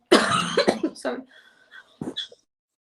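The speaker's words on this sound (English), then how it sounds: "Sorry, I have a cough." A woman's coughing fit, close up: a harsh cough mixed with strained vocal sounds, followed by quieter breathy throat noises and a final brief cough.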